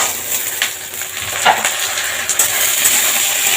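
Finely diced potatoes sizzle and hiss steadily in a hot pan, with a few stirring scrapes and knocks, loud and close, no talking.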